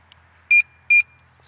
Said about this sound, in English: This is the alarm sound that you're hearing.